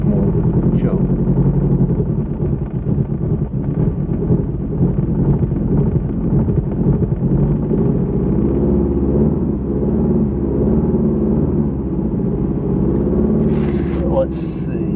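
The engine of a Lotus Excel idles steadily and roughly throughout, loud and close, with wind buffeting the microphone and a brief clatter near the end.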